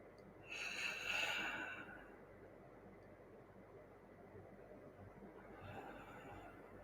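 A person breathes deeply and forcefully through the mouth, one strong breathy rush that swells and fades, followed by quieter, softer breathing in a calm, hushed room.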